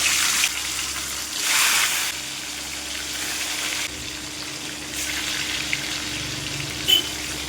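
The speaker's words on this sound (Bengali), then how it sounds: "এবার সেই চিকেনগুলোকে আমি একটু ভেজে নেবো" Marinated chicken pieces frying in hot oil in a kadai for a fried chicken curry, a steady close sizzle with a few louder bursts and the faint scrape of stirring.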